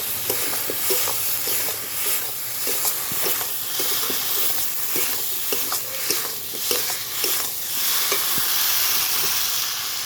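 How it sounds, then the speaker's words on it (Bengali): Potatoes are sautéed in a spice masala for dhoka curry, a continuous sizzle paired with frequent scraping and clacking of a spoon stirring the pan, close and fairly loud, with no talk. "আলুগুলো দিয়ে কষাতে থাকবে"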